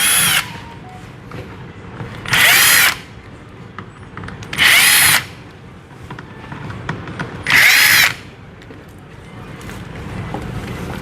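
Screws being backed out of a washing machine panel with a power driver, four separate whirring bursts of a couple of seconds each, close and loud, spaced by quieter handling noise between them.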